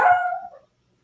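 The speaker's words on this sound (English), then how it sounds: "Oh, sorry for the dog." A single dog bark rings out close by and loud, then trails off into silence, with a brief faint noise at the very end.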